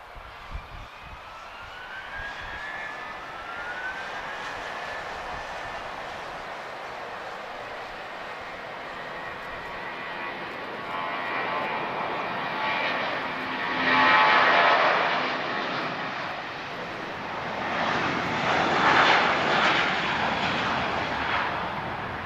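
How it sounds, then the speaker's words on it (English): An Airbus A320-232 with V2500 series engines takes off at Lisbon Airport, a deep engine roar with whining tones that builds and swells over about twenty seconds, loud and fairly close, with no talk. "She's off to Vienna, A320-232. And she has the V2500 series engine."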